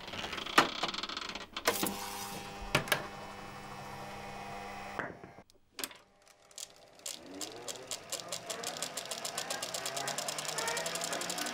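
The motor of restored vintage film sound equipment clicks on and runs as a quiet, steady mechanical whirr with a rapid, regular ticking. Earlier, a person speaks over clicks and a low hum.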